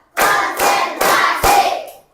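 Four distinct bursts of group hand clapping, each a short flurry of claps from a classroom-style audience following a counted pattern, loud and close with brief gaps between them.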